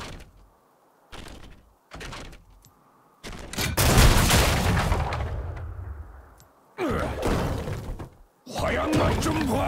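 Powder keg blasts from League of Legends with the Sailor Gangplank skin: several sharp explosive bursts with shattering debris, a big booming blast near the middle and more cracks after, spaced by short gaps and voice lines.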